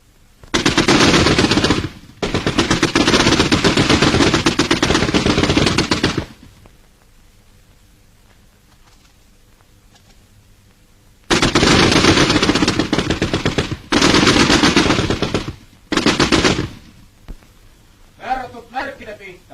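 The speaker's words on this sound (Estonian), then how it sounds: "Lamades püsti põlvel. 5 lasku. Tuld!" Rifle fire from cadets shooting at targets at a 1939 military school comes in dense bursts of rapid, loud shots in several separate volleys, with quiet gaps and a spoken command between them.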